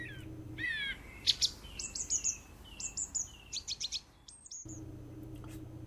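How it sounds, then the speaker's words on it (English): Thrush song: quick, liquid whistled phrases and trills in a short run of bright notes, moderately close, with a low steady hum before and after and no speech. "How gaily sounds the thrush's voice, in liquid notes and fast"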